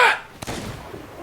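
A cannon fires once in a video game, giving a single short, sharp blast that decays quickly.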